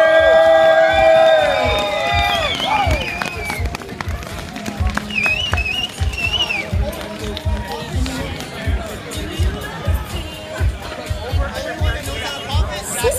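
Crowd applause and cheering for the top three women's finishers at a Red Bull Crashed Ice Riders Cup ice cross event in Jyväskylä, with a PA announcer and music over a steady, lively crowd.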